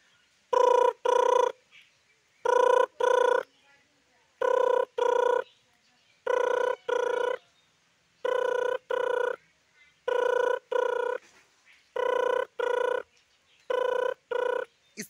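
A voice mimics a mobile phone ringtone in paired bursts, the two-note chirp repeating steadily about every two seconds with short silences between.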